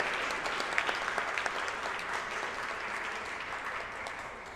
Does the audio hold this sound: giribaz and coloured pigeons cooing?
no